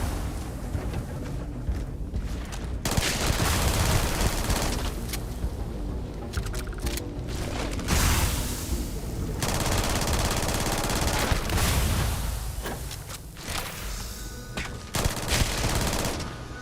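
Rapid bursts of automatic gunfire from a weapon in the video game Starfield, loud close fusillades broken by short pauses, repeating across the stretch.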